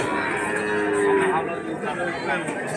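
A young calf moos in a long, drawn-out low call at a calf sale, heard close over steady crowd chatter and background noise.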